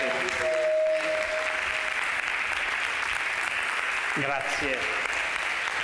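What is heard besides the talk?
audience applause welcoming a guest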